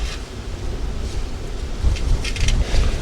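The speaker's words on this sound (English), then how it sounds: "it's very windy here" Strong wind buffets the microphone at a seaside car camp in Lowestoft, a steady low roar with gusts swelling louder near the end, no voices.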